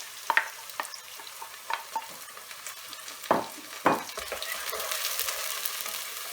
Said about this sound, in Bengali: এর ভিতরে আমি এই চিংড়ি মাছগুলো সব দিয়ে দিচ্ছি